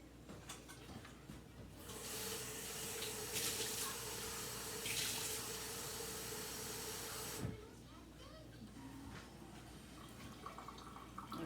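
Water pours from a tap into a pan of hibachi rice simmering on a back burner, a steady hissing stream for several seconds that cuts off sharply, followed by quieter stirring and kitchen clatter.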